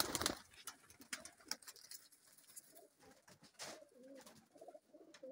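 Rare old white pigeons of a wild breed coo in a loft, with soft, repeated low, throaty phrases that grow clearer near the end amid faint rustling and clicks.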